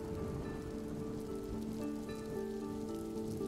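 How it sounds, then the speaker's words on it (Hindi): Rain falls in a constant, even hiss of drops on a surface, with a faint steady tonal layer underneath and no voices. "एक दिन बारिश हो रही थी।"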